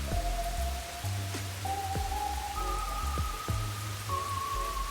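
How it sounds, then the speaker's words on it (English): Steady rain pours throughout a scene in the video game Rain Code, a dense continuous hiss with a low musical drone and soft thumps underneath, no talking. "literally in this area it never stopped raining"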